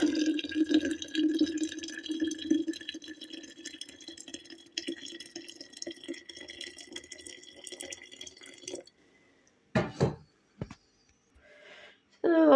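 Liquid runs and trickles steadily into a glass jar for several seconds, then stops, followed by a few short handling clunks and splashes near the microphone, while filling preserves for winter.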